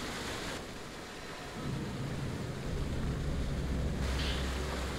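A waterfall in the video game Fatal Frame V roars as a steady, dense rush of water, swelling louder partway through and holding a full, unbroken wash to the end, with no voices.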